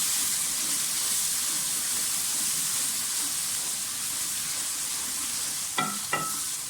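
Mixed vegetables fry in a pan with a steady, soft broadband sizzle and hiss that holds evenly throughout, broken near the end by two quick clinks of a utensil.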